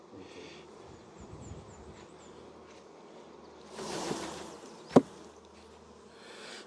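Honey bees buzz softly at a hive frame during queen grafting, a low steady hum with a brief swell of noise and a sharp knock near the end.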